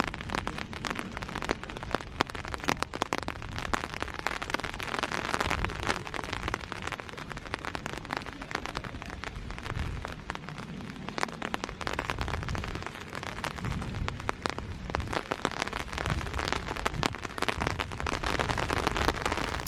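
Steady rain pattering on surfaces at Chedworth Roman Villa in October, with dense continuous drops and occasional louder splashes, no one speaking.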